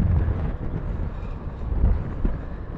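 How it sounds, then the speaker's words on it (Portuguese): Wind rushes past a rider on a Honda Forza 125 maxi scooter at about 40 km/h, a steady broadband roar with slight whistling, continuous and close throughout. "vou aqui a 40 e vocês de certeza vão ouvir aí o vento a assobiar"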